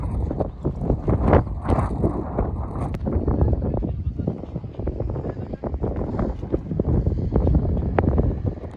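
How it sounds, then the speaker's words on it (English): Strong wind buffets the microphone during a camel ride in Morocco, a loud, continuous rumbling roar with gusts, heard under a voice talking. "oh sorry, it's very windy"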